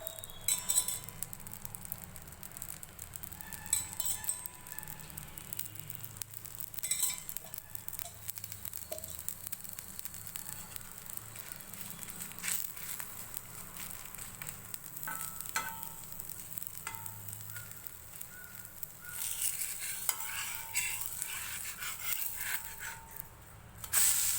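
A ragi dosa fries on a hot pan with a little oil, giving a steady soft sizzle and crackle throughout, with faint occasional clinks and no talking.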